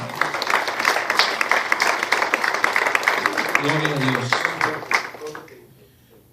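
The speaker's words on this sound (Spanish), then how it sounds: "Denle un aplauso al Señor." Congregation at an evangelical church service claps in broad applause, with a voice calling out over it before the clapping fades to near silence at the end.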